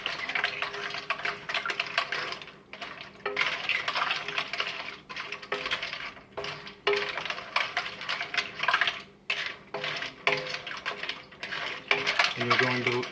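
Salt being stirred into a mixture with metal utensils: busy, close clinking and scraping of cutlery against a pot or bowl, rapid and irregular, with a few brief pauses throughout.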